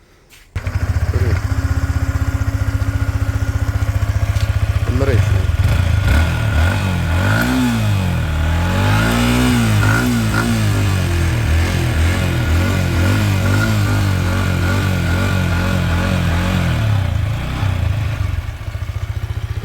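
A used Yamaha R15 V4 sport motorcycle starts up and idles, then its engine is revved in repeated rising and falling swells. It stays loud and close throughout, and a voice speaks briefly near the start.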